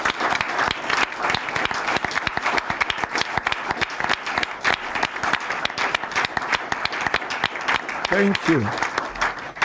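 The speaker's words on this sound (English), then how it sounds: "The way we clap for her will determine the level of love we have for her." Sustained applause from a live studio audience in an open-air studio at a Nigerian radio and television compound, dense steady clapping filling the whole stretch, with a voice speaking briefly near the end.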